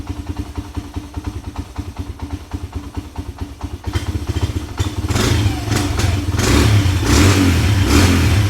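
A Suzuki DRZ125 dirt bike putters at a rapid, even idle up close, then is revved harder and louder in rising, pulsing bursts of engine roar.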